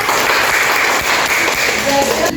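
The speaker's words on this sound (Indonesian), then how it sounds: "Tepuk tangan Dira." A class of pupils claps for a student who has just presented during a school lesson, producing a short, dense burst of hand clapping that continues steadily throughout.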